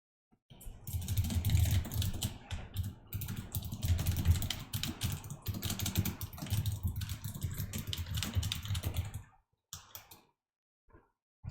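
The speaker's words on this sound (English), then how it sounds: "let me finish typing out my note." Rapid, continuous clacking on a computer keyboard as a note is typed, close and steady for about nine seconds before stopping, with no talking.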